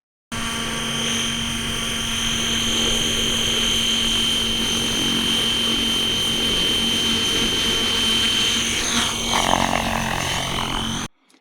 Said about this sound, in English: I'm getting into RC helicopters a little bit